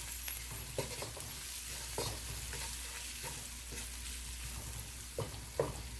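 Vegetables fry in a pan with a soft, steady sizzle while a utensil stirs them now and then, giving faint scraping knocks over the continuous hiss, quiet and close, no talk.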